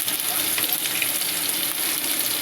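Ingredients for pansit noodles sizzle and fry in a pan with a steady, close crackle, along with some stirring. The clip is short and continuous.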